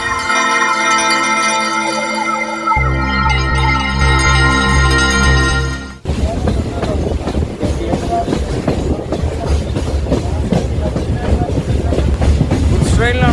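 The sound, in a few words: goods train running towards Dudhsagar through Braganza Ghat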